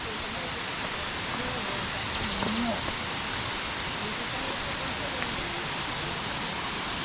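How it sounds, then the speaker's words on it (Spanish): A waterfall at Minas Viejas in the Huasteca Potosina gives a loud, constant broadband roar that fills the whole stretch without letup. "Aquí se ve chida la cascada."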